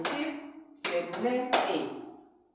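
A few claps in a beginner line dance routine to a trot song, landing as sharp hits over the playing music and a singing voice.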